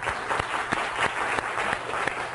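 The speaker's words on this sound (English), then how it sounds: "A round of applause for Timothy and for Abdul." Applause from a lecture audience for Timothy and Abdul, a modest, moderately distant round of clapping with a few sharper individual claps standing out, steady throughout.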